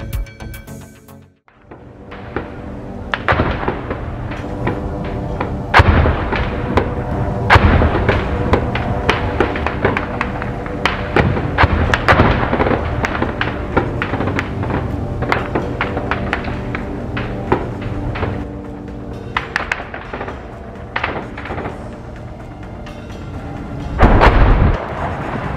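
Continuous combat gunfire and explosions between Al-Quds fighters and Israeli troops, dense rapid shots and heavy booming blasts sounding loud and close throughout without pause.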